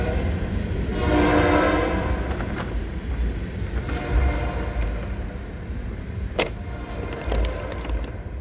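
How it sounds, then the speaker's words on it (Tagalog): A noisy train passes nearby with a steady heavy rumble, a short horn-like tone early on and scattered rattles and clanks. "Ingay naman ng train na yun."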